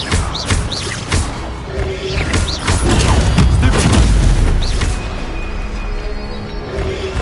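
A Levioso spell cast in the video game Hogwarts Legacy gives a loud, dense magical burst with booming, crackling layers and sparkling chirps, swelling through the middle and then fading into a thinner ambient tail.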